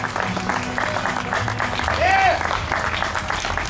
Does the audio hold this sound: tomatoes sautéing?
no